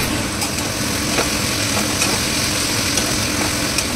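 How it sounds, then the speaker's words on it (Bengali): Vegetables with chopped garlic and sauce sautéed in a pan, a steady loud sizzle with soft scraping stirs at intervals, no voices. "রসুন কুচি দিয়ে তারপরে ভেজিটেবল সব মিশিয়ে আমি সটে করে নিচ্ছি ভেজিটেবলসগুলো"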